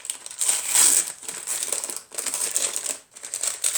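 Small boxes of an advent calendar of soap-making ingredients are opened, with loud close crinkling and crushing of packaging in bursts, briefly pausing twice, and no talking.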